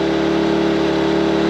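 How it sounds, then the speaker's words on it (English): An Engel portable generator runs steadily at high revs while charging a Jackery Explorer 2000 Plus battery, giving a loud, continuous engine drone with a strong even tone and no other sounds. "just by the way the Engel generator is revving"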